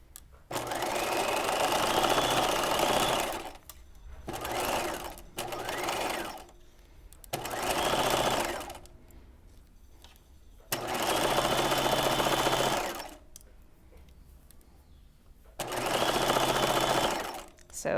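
Sewing machine stitching two seam lines meeting at the underarm of a Breton top, running in repeated steady bursts of a few seconds separated by pauses, close and loud with no talk.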